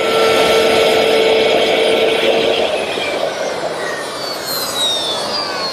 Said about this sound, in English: I've set up my stacked dado head cutter at the table saw with a sacrificial fence on my metal rip fence